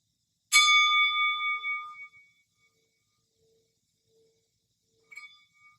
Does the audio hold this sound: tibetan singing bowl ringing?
yes